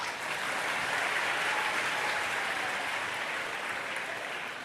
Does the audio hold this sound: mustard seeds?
no